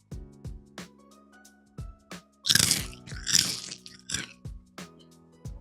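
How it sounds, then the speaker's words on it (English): Crunching curry-flavored chips: two long, loud crunchy bites amid softer chewing clicks, close to the mouth, with no talking. "That was a pretty sustained crunch."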